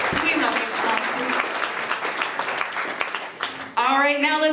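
A crowd applauds steadily, dense clapping filling the clip, with a brief voice rising near the end as the applause carries on.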